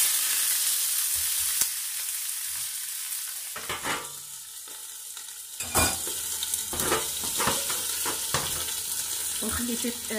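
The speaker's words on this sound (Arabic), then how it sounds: "نخلي الدجاج غير شويه ياخذ واحد اللون ذهبي" Chicken pieces sizzle and crackle in a hot pan as they brown to golden, with spoon stirring scrapes and clatter breaking through the steady frying hiss.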